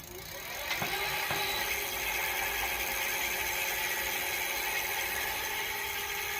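A SameBike electric bike hub motor runs under throttle with pedal assist turned up, giving a steady mechanical whir and whine with a couple of faint clicks near the start.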